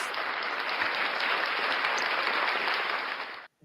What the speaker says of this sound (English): Give him a clap here.